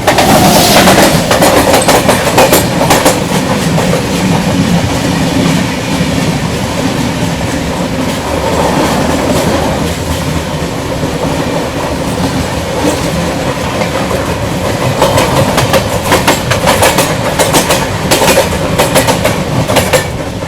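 The Mandovi Express rolls on after leaving Panvel, a loud continuous rumble with rhythmic clickety-clack of wheels over rail joints, heard from inside the train with no talking.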